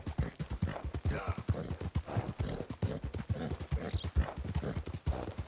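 Rhythmic clip-clop of horse hooves in the video game Red Dead Redemption 2, trotting steadily at close range, with a brief whinny-like note partway through.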